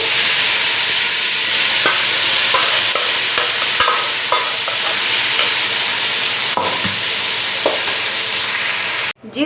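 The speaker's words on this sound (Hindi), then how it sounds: "इसी सेम ऑयल में चिकन का सालन जो हमने रेडी किया था वो हम डालेंगे दूर से और बहुत केयरफुली" Chicken curry (salan) poured carefully into hot oil in a large pot while making degi chicken tehri, giving a loud, steady sizzle with scattered pops and stirring clatters, ending abruptly.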